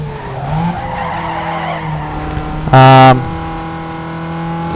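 A car in Need For Speed Underground 2 is driven hard on the throttle, its engine note rising and straining under a racing game soundtrack, with a brief loud tonal burst in the middle.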